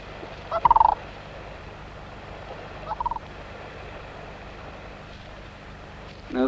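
A crane chick calls in two short bursts of rapid, high chirping peeps a couple of seconds apart. The calls come from nearby over a steady outdoor background hum, with no talking.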